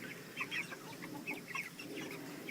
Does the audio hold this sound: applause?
no